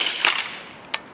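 A KWA KMP9 airsoft gun set to full auto fires sharp, snappy cracks: two quick shots close together, then a third a moment later, each crisp and near against a quiet background.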